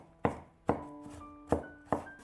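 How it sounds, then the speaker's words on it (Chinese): A kitchen knife mincing peeled, sliced garlic cloves on a board: four sharp, separate chops at a loose, uneven pace, close and clear with no talking. "再改刀切成蒜末"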